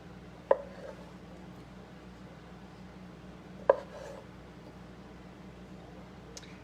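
A knife chops potatoes for potato salad in two sharp, isolated thunks a few seconds apart against a quiet, faintly humming room.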